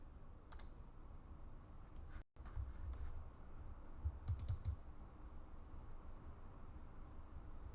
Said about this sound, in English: We can just click this button and it will download a zip file containing all the documents.